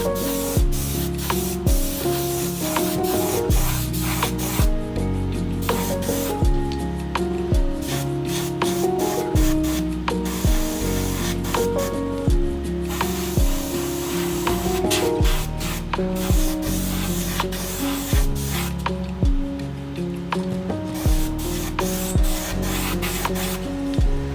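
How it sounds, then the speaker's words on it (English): An airbrush sprays paint onto a custom glide bait fishing lure in short repeated hissing bursts with brief pauses between them, close and steady, with no talk. "Going to clean out the airbrush so we can switch over to our next color."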